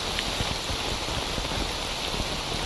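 Steady rain in the game STALKER Anomaly, a storm caught out in the open, making a dense, even hiss with scattered low patters throughout, fairly loud and with no voices.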